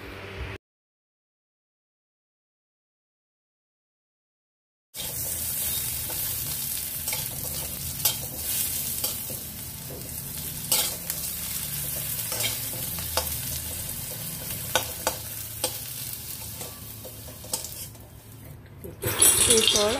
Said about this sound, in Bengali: এরপর সামান্য লবণ দিয়ে আলুগুলো ফ্রাই করে নেব।